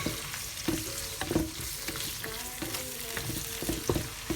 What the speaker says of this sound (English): you have to fry the sauce in the oil to make the sauce taste a little bit better